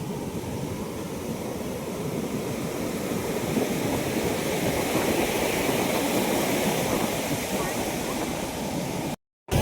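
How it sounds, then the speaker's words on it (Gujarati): Sea waves and strong wind at Porbandar beach give a continuous loud roar of surf and buffeting wind noise that stays constant throughout, with a brief dropout near the end. "અમે પોરબંદરના દરિયા પહોંચી ગયા છીએ. ખૂબ જ હવા અને મજા આવે છે."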